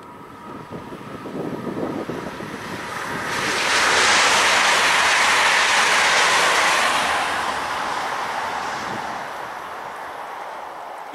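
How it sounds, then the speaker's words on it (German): A EuroCity passenger train bound for Dortmund passes nearby on a mainline, its roar swelling to a loud sustained rush before slowly fading away. "EuroCity nach Dortmund,"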